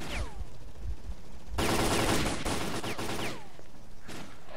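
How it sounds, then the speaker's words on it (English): Bursts of gunfire from the shooter game Lost Alpha, a sustained loud volley in the middle with scattered shots before and after, close and dense, no voices. "Shooting right now."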